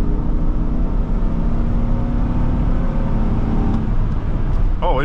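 A 2005 Chevrolet Suburban 1500 builds speed on a road in traffic. The loud engine and road roar from inside the cabin rises in pitch toward the end.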